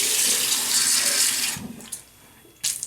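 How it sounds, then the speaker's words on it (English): Warm water runs from a tap into a shaving bowl, a steady broadband rush for about a second and a half, then stops, followed by quiet small drips and a short final splash. "I'm just going to put some warm water in here"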